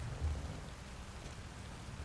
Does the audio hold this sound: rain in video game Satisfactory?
yes